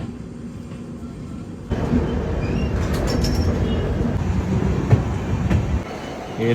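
A train moves through Ayodhya Dham Junction, rising from a quieter platform hum into a loud, steady rolling rumble of wheels on rails with faint clicks and squeals.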